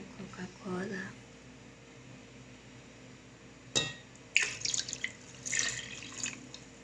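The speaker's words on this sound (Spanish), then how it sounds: "pone el huevo en la olla y vierta la Coca-Cola" Coca-Cola is poured into a pot holding an egg, a short splashing, fizzing pour after a clunk, with muffled voice-like sounds before it.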